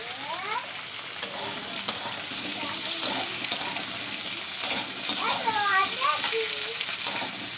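Potato pieces sizzle steadily in a pan with onions fried until browned, a continuous close frying hiss with occasional stirring, while a person talks over it.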